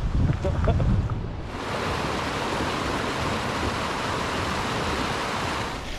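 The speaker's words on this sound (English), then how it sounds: "listening to water running could lead to other problems" Steady broadband rush of running water beside a gravel cycling route, continuous and fairly loud after a brief stretch of louder mixed noise at the start, with no talk over it.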